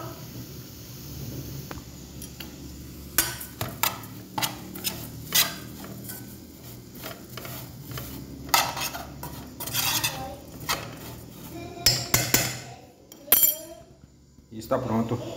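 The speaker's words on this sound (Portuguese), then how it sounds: "aí você desliga o fogo e vai colocando a farinha aos poucos e vai mexendo" Farofa flour with okra, carrot and calabresa sausage is stirred in a pan off the heat, with irregular scraping and clinking of a utensil against the pot as a person talks throughout.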